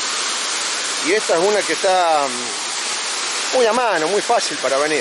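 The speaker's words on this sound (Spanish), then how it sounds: "fíjense qué hermoso salto que hay de cascada aquí en la provincia de Córdoba" The Lágrima del Indio waterfall in Córdoba gives a loud, steady rushing roar throughout, while someone speaks over it in two short bursts.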